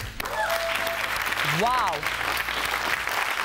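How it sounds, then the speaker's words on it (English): An audience cheers and applauds after a televised leaders' debate on limiting alcohol advertising, sustained broadband clapping throughout with a voice briefly exclaiming over it. "Round of applause for that debate."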